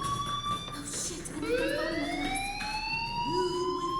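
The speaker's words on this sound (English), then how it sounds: "do you hear that fire alarm?" A fire alarm wails inside the video game Life is Strange, its rising siren-like tones sweeping upward over a steady background hum, moderately loud with no speech.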